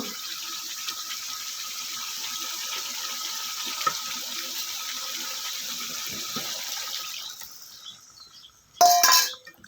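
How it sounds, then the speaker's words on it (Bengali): Water is poured into a pan of desi chicken curry masala, making a steady close splashing rush for about seven seconds that fades out, followed by a brief clatter at the end. "এই পর্যায়ে আমি আর একটু পানি অ্যাড করে দিব"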